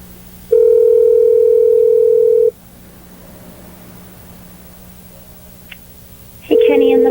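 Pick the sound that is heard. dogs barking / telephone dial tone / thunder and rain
telephone dial tone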